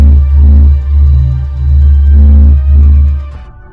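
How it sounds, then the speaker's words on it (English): A sonification of the sun: a very loud, deep pulsing hum swells and dips in slow waves, roughly once a second, before cutting off. "This is the sound of the sun."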